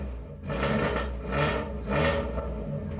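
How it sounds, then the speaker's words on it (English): A car engine freshly fitted with an ME100 ECU idles and revs gently, rising and falling in a few soft swells, heard from close by and on its own. "Started better than this engine has ever started."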